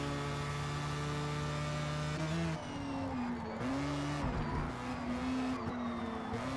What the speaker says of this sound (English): It's the battle of high revving engines.